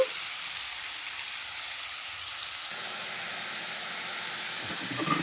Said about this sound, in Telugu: ఆ చికెన్ని ఇందులో వేసేసుకొని చక్కగా మగ్గేంత వరకు ఫ్రై చేసుకోవాలి